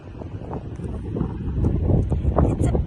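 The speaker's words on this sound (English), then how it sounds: "I'm sorry, the noise on the wind." Steady gusty wind buffets a microphone on Monte Gordo beach in Portugal, a continuous low rumbling roar that swells and sways over a few seconds, with no voices.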